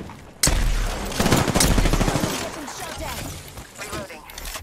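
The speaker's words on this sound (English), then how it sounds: "We're getting shot at?" Gunfire in the battle royale game Apex Legends, with a loud burst of shots cracking out near the start and more rapid fire rattling beneath a player's excited voice.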